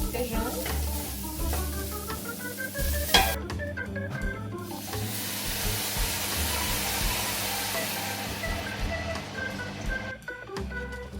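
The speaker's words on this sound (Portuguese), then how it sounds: "Refogando alho e cebola para fazer arroz e feijão." Garlic and onion sautéing in a pan, a loud, close, continuous sizzle with stirring scrapes and brief pauses where the frying drops away.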